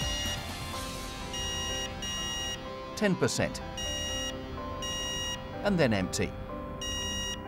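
A BOC Genie gas cylinder sounds its low-gas warning: short electronic beeps repeating at a steady rhythm, with louder clusters of tones partway through, all heard beneath a narrator's voice.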